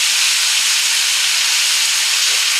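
Onions cook in a covered pan for a zucchini casserole, giving a loud, steady, close sizzling hiss of steam with no break.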